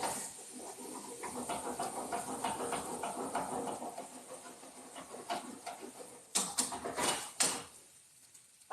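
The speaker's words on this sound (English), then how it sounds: "I'm going to slow down the cooking process by adding some pasta water" Pasta water poured into a hot pan gives a broad, steady sizzling hiss that rises and swells through the first seconds, followed by a few sharper crackling bursts near the end.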